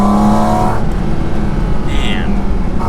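A Porsche 718 Cayman GT4 RS Weissach's engine pulls hard under acceleration with a rapid gear change, the loud close rasp dropping and climbing again, heard from inside the car.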